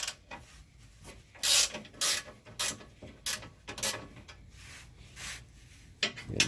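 Bolts being loosened one after another on a Pontiac GTO (Holden Monaro) during an oil change, close up: a series of short ratcheting and metallic clicks in irregular bursts, with no talk.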